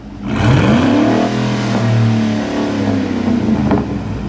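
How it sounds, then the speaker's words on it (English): A deep V8 engine in a Ford Raptor truck with a full Corsa exhaust revs up hard, its rumbling exhaust climbing in pitch and holding a loud, throaty roar before easing back down. "He's got the full Corsa exhaust on."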